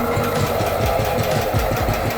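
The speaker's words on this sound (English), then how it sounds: "That's the first fire this engine's had in who knows how many years." A B-10 engine run for the first time in years chugs steadily with a fast, even knock, loud and close with no talking.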